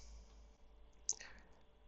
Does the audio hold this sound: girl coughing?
no